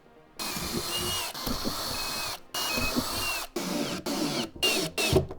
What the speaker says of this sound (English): We drill the second hole.